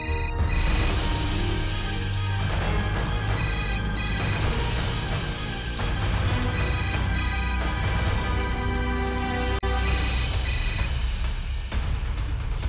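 A phone ringtone plays repeatedly and fairly loud, a looping electronic melody with brief pauses between rings, no voices.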